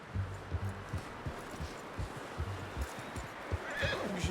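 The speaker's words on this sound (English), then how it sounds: "You should really tether that horse, Arthur." A horse whinnies and snorts nearby in Red Dead Redemption 2, with hooves clopping in an irregular rhythm as it is hitched; rendered game-like audio, no talking.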